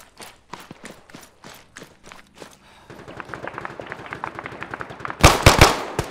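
Gunfire in ARMA 3 during a multiplayer military simulation battle: spaced distant shots, then a sustained rattle of rapid automatic fire, ending in a few loud close bursts.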